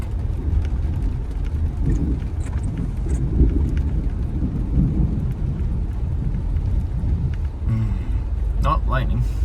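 Thunder cracks and rolls through a heavy rain thunderstorm, a deep rumble over steady rainfall, with a voice talking quietly underneath and a brief sharper sound near the end.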